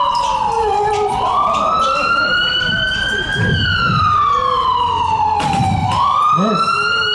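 A loud, close ambulance siren wails in long rising and falling sweeps with a rumbling vehicle beneath it. Voices talk underneath during a stage play scene.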